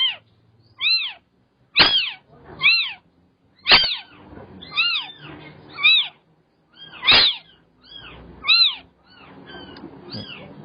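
A cat meows repeatedly in short, high calls, about a dozen in a loose rhythm, with a few sharper, louder cries among them and quiet room noise between.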